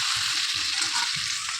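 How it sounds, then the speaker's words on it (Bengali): Pieces of pointed gourd fry in hot oil with turmeric and salt, giving a loud, steady close-up sizzle and crackle that never lets up, with faint low bumps beneath and no voices. "এবার পটলগুলোকে তেলে দিয়ে একটু ভেজে নেব"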